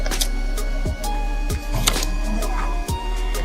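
A print shop machine runs a show card poster for Kuttanad Kannaki, giving a steady mechanical hum with repeated short clunks and whirs, close and alone without talk.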